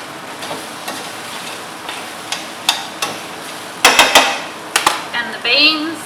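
Carrots and other vegetables for chow mein fry in a hot pan with a steady sizzle, broken by several sharp knocks and scrapes as they are stirred, with a brief voice near the end.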